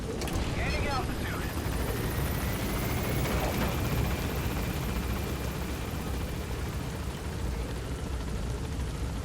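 A helicopter lifts off for extraction from Mother Base in Metal Gear Solid V, its steady loud rotor and engine roar filling the whole stretch with a broad, continuous rumble.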